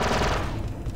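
Gunfire in Star Wars: Republic Commando comes as a rapid, dense burst of repeated shots, loud and continuous for about a second.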